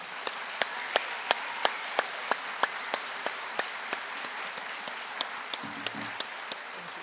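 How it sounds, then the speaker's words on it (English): A crowd applauds steadily with dense clapping, and sharp individual claps stand out in an even rhythm above the wash of hands. "Let's give RJ an awesomely warm hand clap."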